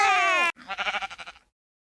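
A sheep-like bleat from George's toy dinosaur in the Peppa Pig cartoon, a short wavering cry that follows a brief burst of another tone and ends abruptly.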